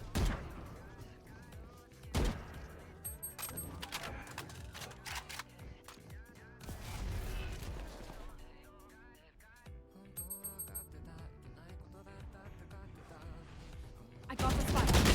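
Swarm grenade detonating during a round of a tactical shooter video game, a cluster of sharp bursts and pops among other gunfire and game effects, loud and near with no talk.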